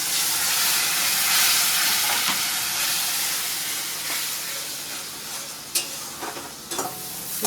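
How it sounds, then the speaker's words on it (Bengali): Spice paste frying in a pan as water is poured in, giving a loud, steady sizzling hiss that eases off, followed by a few sharp clinks near the end. "এখন মশলা ধোয়া জলটা দেবো এবার আমি"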